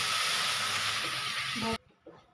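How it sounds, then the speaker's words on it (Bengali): Loud, steady hissing sizzle of paneer pieces frying in oil that cuts off abruptly, followed by a short quiet stretch with a faint clunk. "পনির কোটা ভাজা হচ্ছে"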